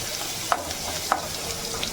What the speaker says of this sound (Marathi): अर्धा चमचा जिरं अर्धा चमचा मोहरी कढीपत्त्याची पाने आणि लसूण लगेच टाकून घ्यायचं याला परतून घ्यायचं